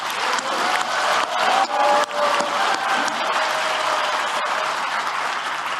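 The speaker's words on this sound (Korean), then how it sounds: "박수로 함께 하겠습니다" An audience at a railway groundbreaking ceremony applauds in a dense, sustained wash of clapping with some crowd noise, steady throughout.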